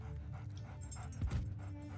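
A video game dog pants and whimpers, with soft rhythmic breaths and faint whines building to a louder huff near the middle, close by and fairly quiet.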